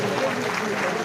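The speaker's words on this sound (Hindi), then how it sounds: "तालियां बजाओ जोरदार" Audience at a Meghwal community mass gathering in Sirohi, Rajasthan, clapping in a brief, dense burst of applause heard at moderate distance.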